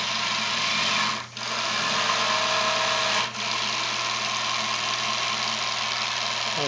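Topaz engine on its first test run, a steady close mechanical drone with a constant low hum, briefly dipping twice as the throttle is changed, with no talk.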